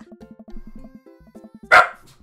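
A single sharp dog bark in a dating-sim video game, loud and close, following a soft plucked musical background.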